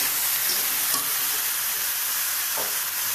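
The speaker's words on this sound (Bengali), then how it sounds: "হলুদ, লবণ, একটু চাট মশলা গুঁড়ো দিয়ে ভেজে নেব" Dal frying in a pan with turmeric, salt and chaat masala, producing a loud, unbroken hissing sizzle throughout, with a couple of faint stirring scrapes and no talking.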